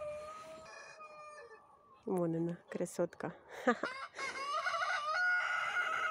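Several backyard roosters crow one after another, harmonic calls stacking up near and slightly farther off, with someone speaking briefly over them.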